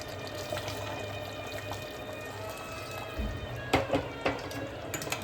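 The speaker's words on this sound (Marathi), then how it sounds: "आता हे गरम पाणीच केलं मी गरम पाणी टाकायचं" Hot water pours steadily into a pot of chicken curry with a soft splashing rush, followed by a few louder sloshes near the end.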